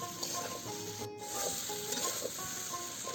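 Mixed vegetables stir-frying in a pan for Bengali bhoger khichuri, a steady soft sizzle with faint scraping and rubbing of the spoon, quiet and continuous with no talking.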